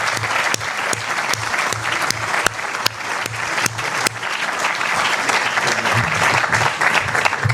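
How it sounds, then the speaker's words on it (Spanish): An audience in Santiago de Chile applauds Antonio Escohotado, close, full clapping with a few sharp individual claps standing out, sustained and fairly loud, with a faint murmur underneath. "pedirle un gran aplauso a Antonio"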